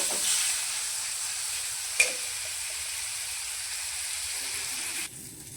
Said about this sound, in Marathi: टमॅटो फ्राय करण्यासाठी अर्धा चमचा तेल ओतून घेऊया. सॉफ्ट होईपर्यंत चांगलं एकदम परतून घ्या.